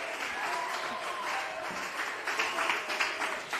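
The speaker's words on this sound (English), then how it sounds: "A round of applause for Amma Sewa." Studio audience applause for a contestant on a TV talent show, a dense, steady wash of clapping from a crowd lasting the whole time without a break.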